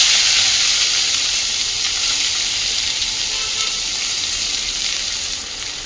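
Cabbage hits hot oil with cumin, dried chilli and asafoetida, raising a loud, close, steady sizzle and hiss that fades slightly toward the end, with no voices.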